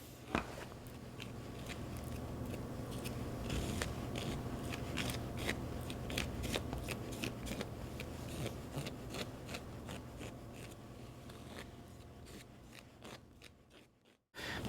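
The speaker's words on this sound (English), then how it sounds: "I'm using a little Tetreault stencil scraper, and I'm just going to scrape this right into the mold." A small stencil scraper drags gold sugar dress across a stencil into a mold, giving a close, steady run of fine scratchy rasping strokes that ends in a brief stop.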